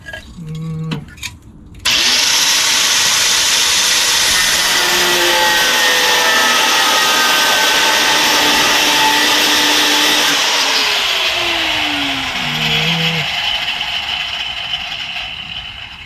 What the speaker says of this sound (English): I'm gonna slice this bolt off.